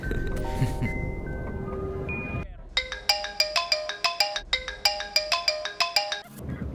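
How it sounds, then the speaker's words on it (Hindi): A mobile phone ringtone plays a bright, repeating melodic pattern of beeps, loud and close, following a stretch of talking and other sound, in a dubbed Telugu film scene. "पापा का फोन आ रहा है पर फोन चार्ज नहीं।"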